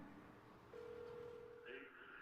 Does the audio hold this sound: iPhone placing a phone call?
yes